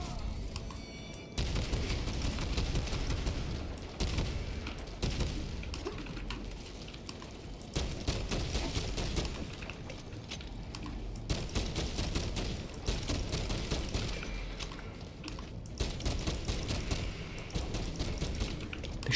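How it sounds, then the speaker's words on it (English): Enemy gunfire in the Space Marine 2 video game against Tyranids, dense rattling bursts of automatic fire arriving in waves with brief lulls, loud and continuous over about twenty seconds. "They're shooting at me even when they can't see me."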